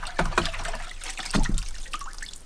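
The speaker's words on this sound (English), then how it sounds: "I just throw this in here. So I can rinse it off." A carburetor part from a 1956 Johnson 5 1/2 hp outboard motor is swished in a small bucket of water to rinse off cleaner, making close splashes and trickling with two louder sloshes and no voices.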